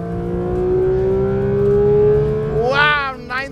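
A 2022 Porsche 911 GT3 RS on a racing circuit revs toward 9,000 RPM, its loud, close engine note climbing in a sustained wail for about two and a half seconds before a sharp change in pitch, like a gear shift, and a brief rise again.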